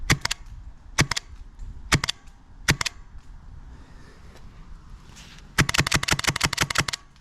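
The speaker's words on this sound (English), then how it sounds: "I'm gonna take a few shots just so you pretty close so you can hear how slow it feeds." A Mancraft PDIK Gen3 V2 airsoft gun fires close by, first as single sharp shots spaced about a second apart, then as a fast string of cracking shots near the end.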